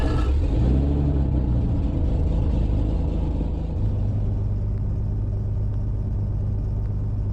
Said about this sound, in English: So we're just waiting for the engine to warm up,